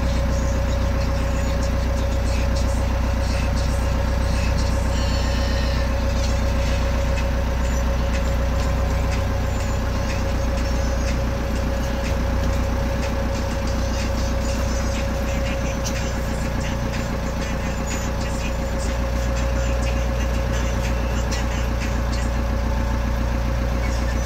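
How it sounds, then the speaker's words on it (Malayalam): Steady, continuous engine drone of a small special boat on the Kuttanad backwaters, a constant mid-pitched hum with a sustained tonal whine running unchanged throughout, no voices. "തിരിച്ചു പോകുന്നത് ഒരു ചെറിയ ബോട്ടിലാണ്, സ്പെഷ്യൽ ബോട്ടിലാണ്."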